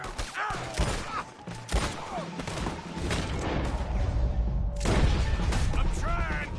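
Gunfire during a wagon fight in Red Dead Redemption, with sharp shots scattered over a noisy, loud battle bed and game characters shouting over the shooting.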